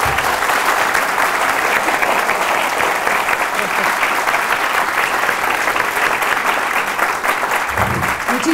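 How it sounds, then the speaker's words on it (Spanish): A large audience claps steadily for several seconds, dense sustained applause filling the room without pause. "Pido un aplauso para ella"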